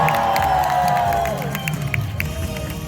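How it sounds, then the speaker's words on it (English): An audience at the Animal Actors show at Universal Studios Hollywood cheers and claps loudly, with excited shouts and children's voices that swell and then ease off slightly toward the end. "nice cheering"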